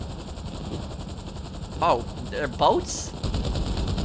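Steady rattling gunfire in GTA 5 under a constant droning engine hum, fairly even and continuous, with someone briefly speaking over it.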